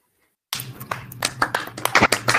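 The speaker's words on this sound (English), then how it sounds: "A big round of applause" Audience applause at a student CubeSat workshop, bursting in suddenly after silence: a modest crowd clapping in scattered, uneven claps, fairly close, for a couple of seconds.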